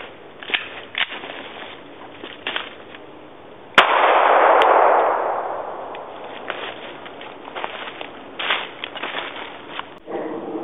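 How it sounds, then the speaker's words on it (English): A single sharp .45 pistol shot firing 230-grain full metal jacket, a loud crack followed by a broad decaying boom, amid quiet outdoor ambience. "Alright, here goes the 45 test. I'm going to shoot it first, 230 grain full metal jacket with a lead bullet."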